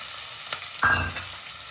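Steady broadband sizzle of cumin seeds in hot oil, with a sudden louder burst of crackling partway through that settles back into a continuous fry.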